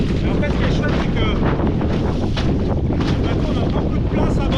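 Loud, constant wind roaring across the microphone aboard a BirdyFish S sailboat under way, with the rushing of water beneath it, steady and unbroken throughout.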